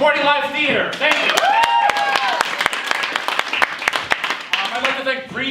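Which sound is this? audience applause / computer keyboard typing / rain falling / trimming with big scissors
audience applause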